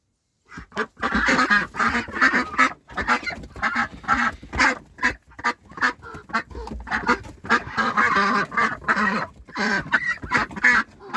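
Pekin ducks quack in a loud, close flock, with honking calls in rapid, overlapping bursts that keep up throughout.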